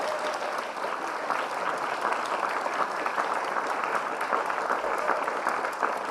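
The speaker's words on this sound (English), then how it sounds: "Normally, you clap for these." A morning lecture audience in New York claps for the volunteer crew, giving a dense, steady round of applause that holds evenly for about six seconds.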